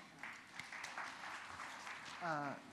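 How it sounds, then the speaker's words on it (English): An academic philosophy conference audience gives light, scattered applause to welcome a speaker, faint and thin, with a brief voice rising near the end. "We welcome our speaker with claps."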